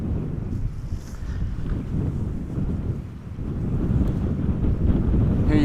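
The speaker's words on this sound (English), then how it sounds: "We have wind blowing from the southwest." Strong southwest crosswind buffets the microphone beside the Polderbaan runway at Amsterdam Schiphol Airport, a loud continuous low rumble that swells and dips, with no one speaking.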